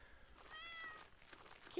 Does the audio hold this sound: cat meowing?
yes